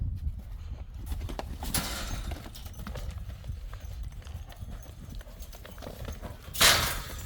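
A horse walks around during groundwork training, its hooves clip-clopping in a steady, fairly close rhythm. Brief bursts of broadband noise break in twice, and no clear talking is heard.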